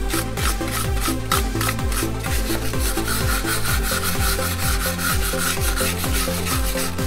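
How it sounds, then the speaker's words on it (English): A steel wire brush scrubs rust from around the wheel hub of a 1984 Chevy K10 pickup. Loud, close, rhythmic back-and-forth rasping strokes repeat rapidly and evenly, with no talking. "clean around where the wheel goes with a steel brush just to get any, you know, rust chunks off"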